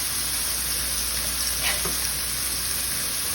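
Pork breakfast sausage patties with onion sizzle steadily in a pan, a constant close frying hiss with one brief scrape or clink partway through and no voices.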